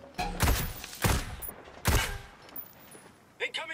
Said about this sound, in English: Incoming sniper fire.